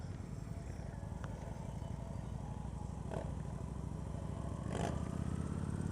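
A Victory Vegas 8Ball motorcycle is ridden at low speed, its engine a continuous low rumbling drone heard up close with faint wind noise.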